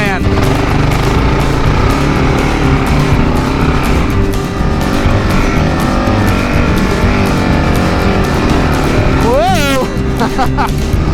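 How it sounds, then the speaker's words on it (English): A 2022 Kawasaki KLR 650 motorcycle ridden through sand on dual-sport tires, its engine droning steadily and loudly throughout, with a rider shouting near the end. "Who says you can't ride a KLR in the sand?"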